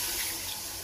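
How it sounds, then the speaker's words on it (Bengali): Hot water poured into a pan of tilapia fish curry with green banana on a turned-off village stove, a steady close rushing pour that lasts throughout without pause. "এবার আমি গরম জলটা দিয়ে দেবো।"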